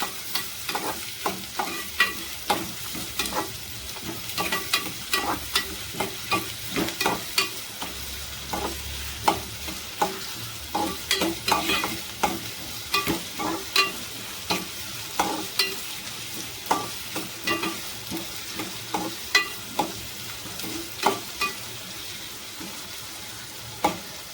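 A steady oil sizzle runs beneath repeated sharp scraping taps as ingredients are stirred and fried golden brown for a prawn curry, close and fairly loud, with no voices throughout.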